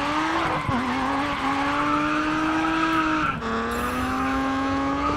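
Tires squeal in a long, loud sustained screech as a car drifts under the e-brake in the racing game GRID Autosport, with engine tone rising and falling throughout and a brief dip near the middle.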